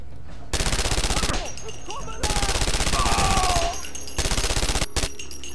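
Rapid automatic gunfire in a video game, three sustained bursts of fast repeating shots at close range, loud and dominant, with short gaps between bursts and faint talk underneath.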